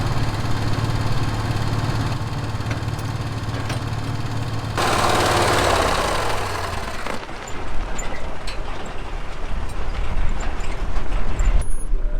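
A farm vehicle engine drones steadily and loud at close range while dragging a grain auger along a back road to a bin during an Australian wheat harvest, its rumble shifting as it moves, with no talking.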